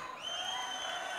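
An audience claps at a film audio launch event in Mysore, a brief, steady burst of applause heard at a distance with no voices over it.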